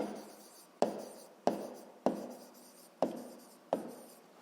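Chalk or marker strokes on a school board in a sixth-grade maths lesson, five crisp taps each followed by a short fading scratch, quiet and close, with no voices.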